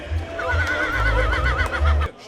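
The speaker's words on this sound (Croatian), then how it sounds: "Konj se zove Titan." A three-year-old horse at a rural horse show gives a loud, close whinny, its wavering cry lasting well over a second before breaking off, with low crowd rumble underneath.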